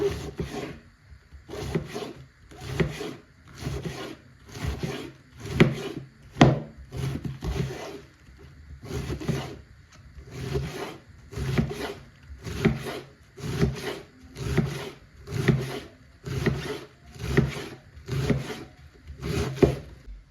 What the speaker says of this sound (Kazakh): Осыдан барлығындай жіңішкелеп турап шығамыз.